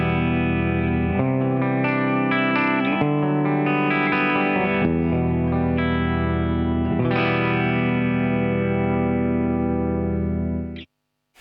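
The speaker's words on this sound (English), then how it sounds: "we're relying strictly on the compression to basically boost our sound here" Electric guitar run through a compressor effect pedal, playing sustained, evenly levelled chords and notes that ring out loud and smooth for about eleven seconds before cutting off abruptly.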